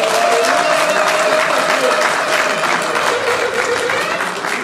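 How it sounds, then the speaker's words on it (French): Loud, sustained applause fills the hall at a community association meeting as a new board is installed, continuous clapping from a large crowd with a voice calling out over it. "Sous vos applaudissements."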